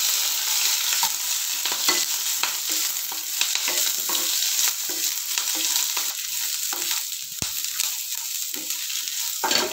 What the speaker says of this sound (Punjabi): ਇੱਕ ਮਿੰਟ ਤੱਕ ਪਿਆਜ਼ ਭੁੰਨਿਆ ਹੈ।